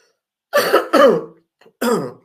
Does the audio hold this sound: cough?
yes